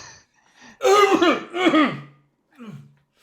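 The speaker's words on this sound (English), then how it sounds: "Coughs," A performer voices a cough during a tabletop roleplaying session, two strong harsh bursts close to the mic followed by a fainter trailing one.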